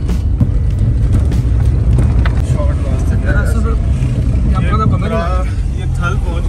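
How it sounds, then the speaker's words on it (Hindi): A car drives through Kumrat Valley toward Thal, a steady loud rumble of engine and road noise running throughout, with voices talking over it. "गाड़ी चला रहे हैं"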